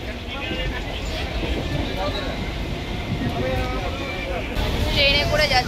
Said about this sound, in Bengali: ট্রেনে করে যাচ্ছি, বেশ ভালোই কিন্তু লাগছে